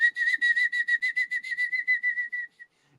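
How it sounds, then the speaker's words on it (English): The giant ants in the film Them! give a high, shrill whistling cry, pulsing in a fast even rhythm of about fifteen chirps that tail off, loud and alone. "we hear the sound that the giant ants make"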